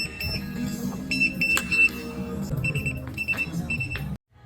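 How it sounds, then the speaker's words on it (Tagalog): A restaurant order-number pager at a Korean store beeps in repeated high electronic chirps over restaurant background noise, then cuts off abruptly. "Ayun pala ang purpose niya, may patudog-tunog siya ng tut."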